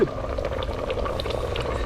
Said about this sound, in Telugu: వాటర్ దమ్ముకు కూడా వచ్చేసింది